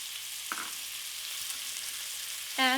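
Onions, garlic and celery fry in a pan for a vegetable stew, giving a steady soft sizzle throughout with a brief clatter near the start and a short tonal squeak at the end; no one speaks.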